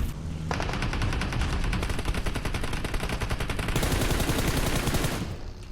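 Sustained automatic gunfire from PUBG Mobile rattles in a dense, rapid stream of shots for several seconds, loud and continuous with no talk over it.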